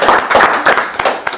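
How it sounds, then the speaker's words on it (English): Studio audience clapping for a guest on a talk show couch, a few quick bursts of hand claps close to the microphone with an uneven rhythm. "we're going to clap it up for Shana Bana."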